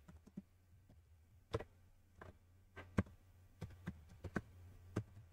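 Keystrokes on a computer keyboard while typing a term into a website search bar, a sparse run of quiet, close clicks at an uneven pace with short pauses between bursts.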